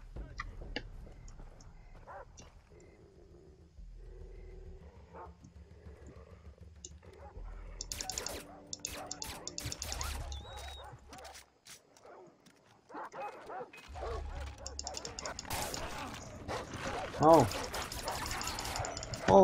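Several dogs bark and yip in Far Cry 3 gameplay, bursts of barking scattered across the scene and heard close and mid-distance, with voices talking in between.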